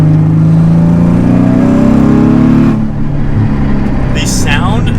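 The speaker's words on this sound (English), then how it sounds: "The sound the car makes is so unique as well." A heavily modified turbocharged Nissan Z engine drones loudly with steady harmonics for about three seconds, then eases off into a rougher, lower rumble, heard from inside the car with a faint voice near the end.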